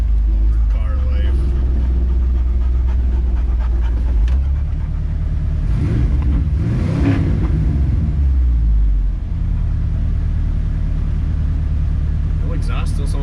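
A loud, throaty 327 V8 in a 1964 Chevy Impala station wagon, running with no exhaust, rumbles up close, revving up sharply in the middle before settling back to a deep idle.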